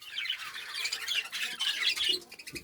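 Harsh squawking bird calls repeat in a dense, continuous chatter, fairly close, with no talking.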